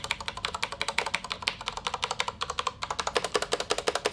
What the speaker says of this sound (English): I'm going to type on it a little bit.